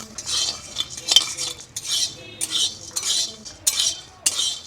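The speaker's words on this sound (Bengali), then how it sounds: "তো চানা ডাল ভাজা হয়ে গেছে," A utensil scrapes and clinks against a pan as chana dal is stirred while dry-roasting, in a rhythm of about eight separate, close strokes.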